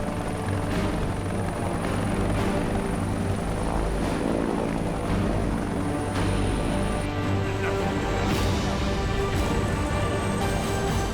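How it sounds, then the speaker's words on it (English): A helicopter lands on a highway at a wreck, its loud, steady rotor thrum and engine whine filling the whole clip, staying close and continuous with no voices. "Here comes the chopper."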